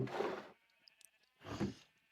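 Minecraft sheep give two close, distinct bleats, separated by a short pause filled with quiet game tones.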